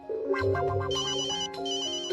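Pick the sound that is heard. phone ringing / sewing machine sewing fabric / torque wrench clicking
phone ringing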